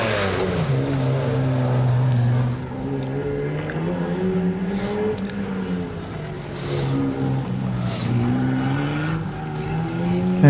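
A race car climbs a hillclimb course at the Legend of the Lakes event, its engine rising and falling through gear changes and corners at moderate distance, with a faint commentary voice underneath.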